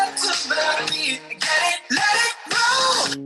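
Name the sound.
song played on piano in music math application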